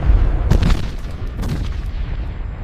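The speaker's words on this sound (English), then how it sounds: "The explosion breaches the line" An explosion breaches a German defensive line in a WWII Battle of Berlin 1945 toy-soldier battle scene: two heavy booming blasts about a second apart, loud and close, followed by a rumbling, crackling tail.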